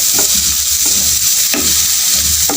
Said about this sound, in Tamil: நல்லா ஃப்ரை ஆகிட்டே இருக்குது